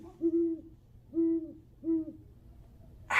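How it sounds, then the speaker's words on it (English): An owl hoots three times in a slow, evenly spaced series, each call a clear low tone. The calls stand alone against quiet night background, with a brief burst of noise at the very end. "Owls is crazy."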